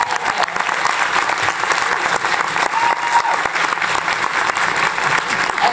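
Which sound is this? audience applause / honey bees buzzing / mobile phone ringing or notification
audience applause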